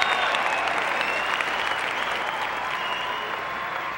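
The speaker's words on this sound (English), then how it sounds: "The applause continues for Mike Francois" Hometown crowd gives sustained, dense applause for bodybuilder Mike Francois at a bodybuilding contest, the Arnold Classic 1995, steady and loud throughout with faint crowd noise.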